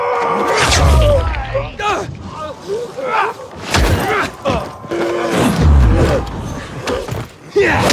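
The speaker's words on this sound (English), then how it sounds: "there's a cannon on the roof to the west" Heavy booms and thuds of a rooftop cannon firing in the game Dying Light 2, several deep, loud blasts spaced a couple of seconds apart, mixed with other crashing action sounds and voices.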